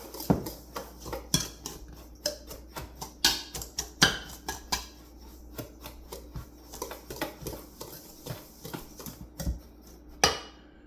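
A utensil stirs a dry brisket seasoning rub made with light brown sugar in a bowl, producing a quick run of sharp clinks and scrapes in uneven rhythm, close and clear, with no one speaking.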